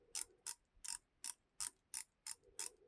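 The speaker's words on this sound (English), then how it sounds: "it's a 120 click aluminium bezel insert, not ceramic" A 120-click aluminium watch bezel insert is turned in a quick, evenly spaced series of about eight sharp, crisp clicks, close and quiet with no other sound.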